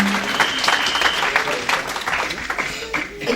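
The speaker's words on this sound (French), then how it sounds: "Est-ce qu'on peut applaudir pour le Seigneur?" A church congregation applauds during a sermon, dense continuous clapping filling the whole span at steady volume, with a voice briefly audible over it.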